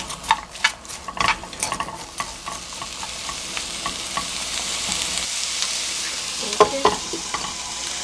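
Onions sizzle in sesame oil in a pan while a utensil stirs them, sharp scraping clicks early and late over a steady hiss of frying, close up; a voice speaks briefly.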